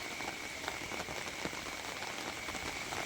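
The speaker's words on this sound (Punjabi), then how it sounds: "ਬਹੁਤ ਤੇਜ਼ ਬਰਸਾਤ" Heavy rain falls on Tapa town as a continuous, even hiss with scattered drop patter, faint and steady throughout with no voices.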